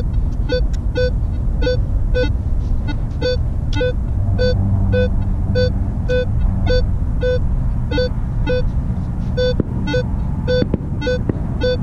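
A Minelab Equinox 900 metal detector sweeping over a beach target gives a run of repeated beeping tones over steady surf-like background rush, the pulses regular and fairly clear throughout.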